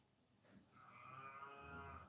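A cow lets out a single drawn-out, strained moo that swells and holds, faint and somewhat distant, with no voices.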